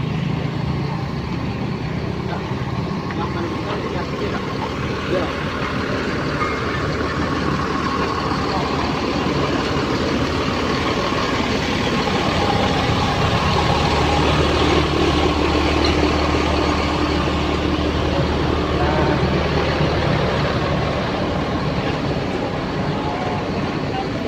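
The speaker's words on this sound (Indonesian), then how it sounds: "Ini bus tujuan ke Payakumbuh." A bus idles at a busy bus terminal in Solok, a steady loud engine rumble running throughout with a crowd's chatter and voices mixed in.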